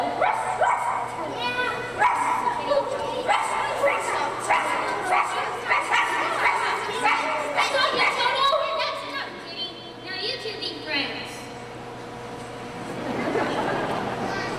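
A small dog yaps and barks repeatedly in quick bursts over a voice and chatter, then gives a soft whimper before falling quiet.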